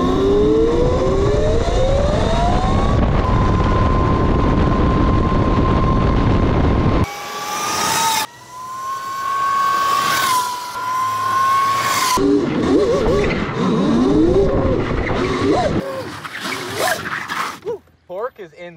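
72V Surron-powered electric go-kart accelerating on medium power, a loud rising electric motor whine climbing in pitch in repeated surges, with wind buffeting and a few level shifts between runs.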